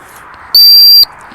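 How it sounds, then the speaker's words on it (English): A single sharp, piercing dog training whistle blast lasts about half a second, loud and close over quiet outdoor background. "Reminder that the whistle means stop or sit and something good is coming."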